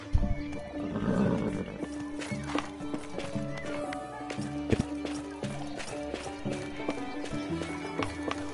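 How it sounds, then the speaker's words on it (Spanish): A horse in the online multiplayer game Bless Unleashed, with steady clip-clop hoofbeats and an occasional snort or whinny under game music, fairly quiet, with someone talking faintly at times. "Pero es un caballo muy bonito."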